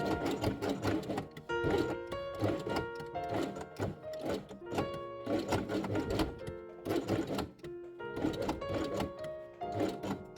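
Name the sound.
sewing machine stitching felt pieces along the edge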